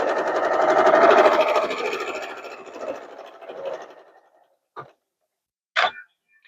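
A sewing machine back stitches fabric for DIY pattern weights, a close, rapid mechanical whir that fades out after about four seconds, followed by two brief separate clicks.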